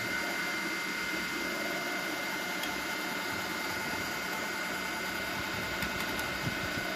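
A 3D printer with a direct extruder runs at real speed, giving a steady mechanical whir and hum with a few faint clicks, close and continuous with no talking.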